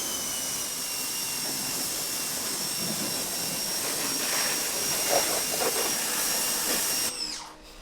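A pressure washer spraying a dirty Kandi Spider buggy gives a loud, continuous hissing roar with a steady machine whine underneath, running unbroken for several seconds before cutting off abruptly near the end.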